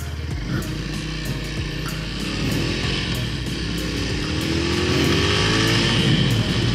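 A 2012 Honda Tiger Revo 200 cc motorcycle of about 17 horsepower roars during a test ride, a loud continuous drone that builds in pitch as it accelerates, with wind rush over it.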